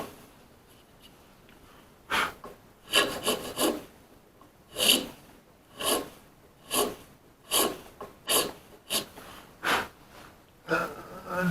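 A file rasps a notch into the wood of an old piano key, being rebuilt after some 130 years, in about a dozen short, separate strokes that start and stop at an uneven pace, close up and clear.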